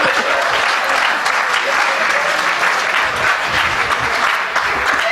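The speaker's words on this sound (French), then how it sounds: "On acclame quand même pour lui" A crowd gives loud, sustained applause for a speaker, a dense, even wash of clapping that lasts throughout without a break.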